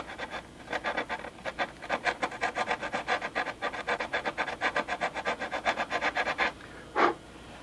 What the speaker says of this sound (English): And just fold up some sandpaper and get that notch nice and clean.